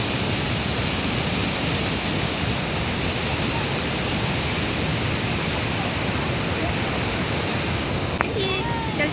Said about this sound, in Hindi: तीन नदियों का पानी है जो यहाँ पर आके मिलता है।